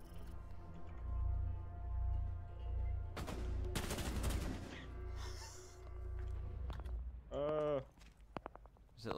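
Gunfire in the Rainbow Six Siege video game, a burst of rapid shots crackling loudly in the middle, set against game noise and faint background sound.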